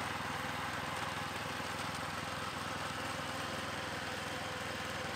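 A ProGARDEN 4x4 18 hp garden tractor's engine runs slightly revved in an even, continuous drone, moderately near, with no talking.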